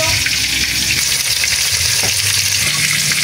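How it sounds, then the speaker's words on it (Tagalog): Broth with onion and taro bubbles and sizzles in a pot, a steady close, dense hiss that runs on without pause. "nagpapakulo na po ng ating sabaw at nilagyan ko na po ng sibuyas"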